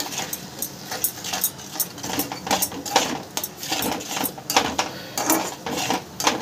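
Spiced cabbage curry with chopped tomato and a little water being stirred and sautéed in a pan, giving continuous scraping and clinking of a utensil against metal with a soft sizzle underneath, close and steady.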